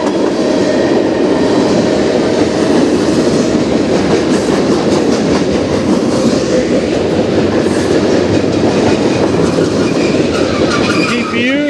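A CN freight train rolls past in Sarnia, Ontario, a loud sustained roar of wagons with rhythmic clickety-clack and a few high wheel squeals near the end, heard up close.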